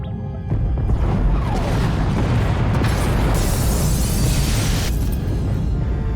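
Pod bays blown apart in the Star Wars: The Old Republic video game, heard as a loud, sustained roaring explosion with rumbling, crackling debris that fills about six seconds without a break.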